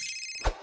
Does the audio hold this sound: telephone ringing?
yes